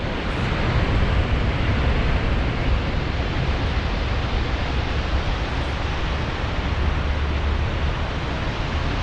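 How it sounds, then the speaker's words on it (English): A waterfall produces a constant, dense, broadband rush that fills the whole stretch evenly and loudly with no other sounds. "let me show you the waterfalls here real quick"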